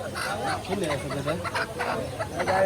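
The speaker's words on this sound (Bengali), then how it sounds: "দেশি মুরগি নিয়ে আসছে দেখেন" Native chickens cluck and squawk among the bustle of a village poultry market in Bangladesh, several birds calling in short bursts under nearby voices talking.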